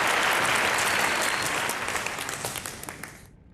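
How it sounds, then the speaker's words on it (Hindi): A TV game show studio audience claps loudly, a dense roar of many hands that holds strong and then tapers off and stops abruptly at the end. "जोरदार तालियां पर अनिरुद्ध एवरीबॉडी।"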